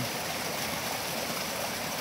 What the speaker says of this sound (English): the water comes in through the roof in the entrance series